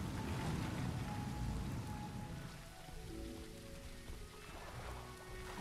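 A massive waterfall in the video game The Isle roars steadily beside a small pond, a loud broadband rush that thins somewhat midway, with faint tonal game sounds layered over it.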